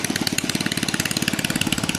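Hand tractor engine running in a rice field, a loud rapid chugging with an even, fast pulse of firing strokes, close by and steady throughout with no voices.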